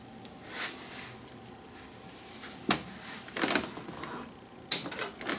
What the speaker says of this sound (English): I'm just gonna remove the excess on these zip ties right here.